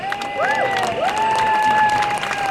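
A rally crowd in Auckland cheers and claps, with whistles and high shouts rising over a dense bed of applause, loud and close, no speech.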